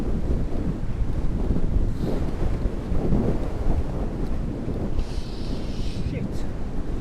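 Strong wind buffets the microphone while riding a Dutch bike along an exposed, lightly treed route toward Giethoorn, a steady loud roar of gusts throughout, with brief hissing bursts layered on top.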